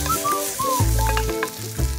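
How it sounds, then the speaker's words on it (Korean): Eggplant and tomato are stir-fried in a pan, giving a loud crackling sizzle with short bursts of stirring and clattering, no voices. "살짝만 볶아주고요."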